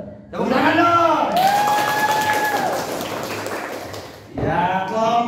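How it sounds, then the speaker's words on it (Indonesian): A classroom of students claps and calls out together in a loud burst of applause that gradually fades, then voices rise again with more cheering and talking. "Tepuk tangan dong."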